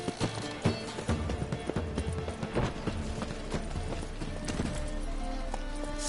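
Roach the horse galloping in The Witcher 3: rapid, steady clip-clop hoofbeats, loud and close, driving continuously under a bed of game music and ambience.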